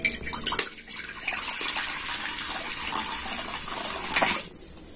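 Water poured into a kadai for boiling Maggi noodles in a home kitchen, a steady close splashing stream lasting about four seconds before stopping.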